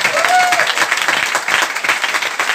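A hall audience at a network marketing gathering claps loudly together in one dense, steady burst of applause.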